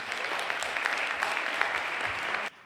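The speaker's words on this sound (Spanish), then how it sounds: "por favor, un fuerte aplauso para Mapi." Students and audience at a high school talk applaud a guest speaker, dense continuous clapping fairly close and loud that stops abruptly at the end.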